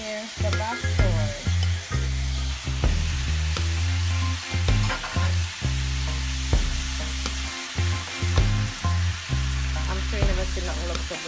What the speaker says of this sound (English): And there goes the main ingredient, the bok choy